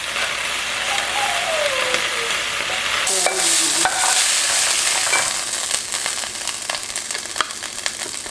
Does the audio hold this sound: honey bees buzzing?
no